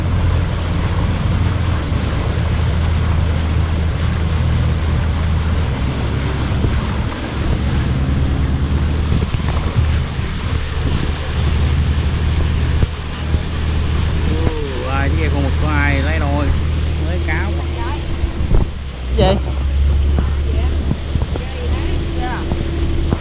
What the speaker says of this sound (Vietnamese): Bên này ghe thì chạy anh em ơi.